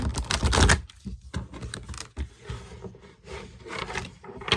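Tarot cards riffle and flick in quick, clattering bursts, a close, papery shuffling with brief gaps between the handfuls.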